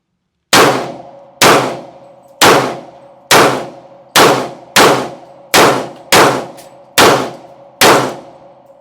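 Ten evenly spaced pistol shots from a Smith & Wesson M&P 40 police trade-in ring out, each ending in a bright metallic clang off a steel target, loud and alone with short ringing decays.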